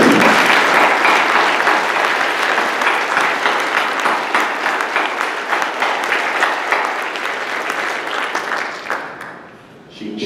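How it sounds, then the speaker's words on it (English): Sustained audience applause at a physics teaching award ceremony, a broad, even roar of many hands clapping that holds steady for several seconds before thinning and fading out at the end. "I want a round of applause."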